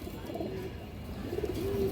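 A male pigeon coos softly nearby, a low throaty warble rising over a murmuring background.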